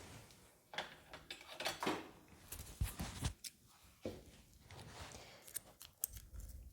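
Scissors snip at close range in several quick, irregular cuts mixed with small handling clicks and rustles, with no talking during the cuts.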